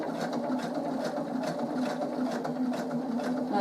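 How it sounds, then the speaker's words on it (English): A sewing machine runs steadily, stitching a small fabric pen holder bookmark with a continuous close hum and a rapid needle rhythm, starting with a couple of reverse stitches about 1/8 inch in. "again start with a couple of reverse stitches."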